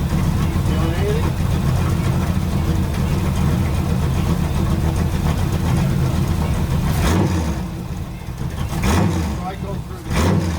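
A 1973 Chevy Camaro with a split bumper, sitting at least ten years, idling after a cold start: a loud, rough, continuous rumble with a few sharper surges near the end and voices at times.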